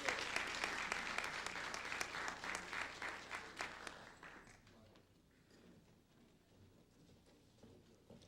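Applause from an education conference audience at Medgar Evers College, fairly loud and crisp at first, then fading out around the midpoint into quiet room tone with faint murmuring.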